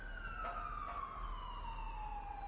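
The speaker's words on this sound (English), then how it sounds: "There's about to be an ambulance passing." An ambulance siren wails steadily and drops slowly in pitch as it passes, heard faintly at a distance under a low hum, with no talking.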